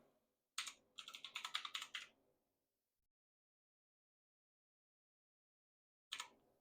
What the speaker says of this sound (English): You can type in the passport number.